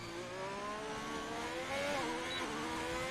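Formula 1 car in F1 2020 at the Bahrain circuit, braking hard and drifting into a turn: a steady engine whine that drops in pitch as the car slows, then climbs again, with faint tyre squeal near the end.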